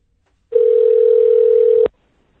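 A telephone tone sounds while a call is being placed: one steady, clear electronic tone lasting just over a second, alone and close, then cut off abruptly.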